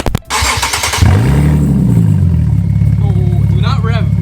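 A Nissan 370Z NISMO engine with a Tomei titanium exhaust turns over and catches, settling into a steady low idle hum, with a few voices talking over it near the end.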